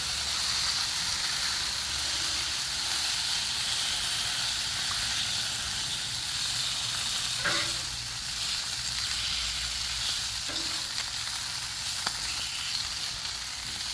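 Bacon frying on a Blackstone griddle with a loud, dense sizzle that hisses on without a break, with a few faint scrapes or taps from a spatula now and then.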